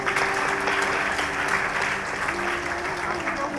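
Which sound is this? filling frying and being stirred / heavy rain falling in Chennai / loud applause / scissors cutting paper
loud applause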